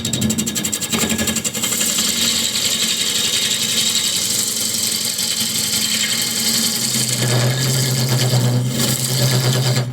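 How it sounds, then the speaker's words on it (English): A 1 horsepower wood lathe roughing out a bowl drones continuously with a loud, steady mechanical hum and a gritty scraping cut, its tone dipping and shifting as the motor strains under the load. "Now this is a 1 horsepower lathe, so I can't take this much of a bite."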